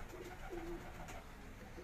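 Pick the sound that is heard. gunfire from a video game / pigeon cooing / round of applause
pigeon cooing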